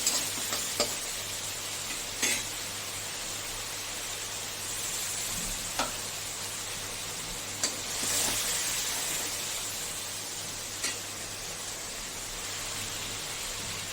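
Taro frying lightly in oil with spices for a fish curry, a gentle, even sizzle under a low hum, with a few isolated stirring clicks spaced out over fourteen seconds.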